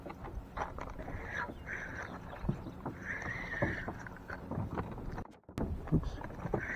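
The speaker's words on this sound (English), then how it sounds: "Let me turn the boat." A fishing boat turning on the water gives a close, steady rumble of hull and water noise with wind buffeting the microphone and a few soft knocks, and a brief dropout near the end.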